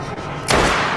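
A single sharp gunshot in a horror film, a sudden loud crack about halfway through followed by a short noisy tail, preceded by quieter ambient sound.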